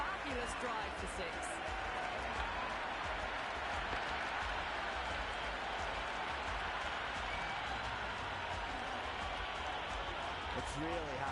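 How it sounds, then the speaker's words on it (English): A stadium crowd in the cricket video game Cricket 26, during an India vs South Africa T20 match, roars and cheers in a dense, steady wash of noise that fills the whole stretch without letting up. "The crowd are loving every minute of this match."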